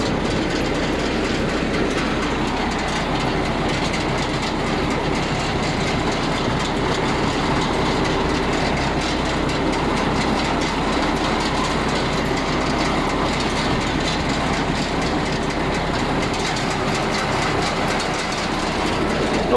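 An RXYK-9010 round baler running behind a tractor makes a steady, loud, continuous mechanical rumble with dense rhythmic clatter throughout, close to the microphone and with no voices.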